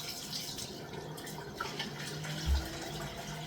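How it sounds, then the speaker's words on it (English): Hot water running from a tap into a pot for warming a razor blade before a head shave, a steady close splashing flow with a soft clunk midway. "Fill your pot up."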